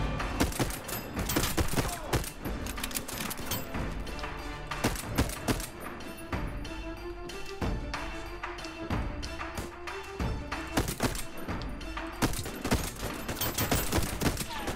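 Dense, rapid gunfire from the Voidtrain video game cracks continuously and close, with bursts of shots overlapping throughout.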